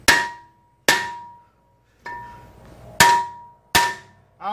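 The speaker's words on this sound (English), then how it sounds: "Grab a hammer and do not hit the studs." A hammer strikes the rear wheel hub of a Chevrolet Tahoe between the studs, five sharp metallic clangs with ringing decay, spaced about a second apart, loud and close with no talk.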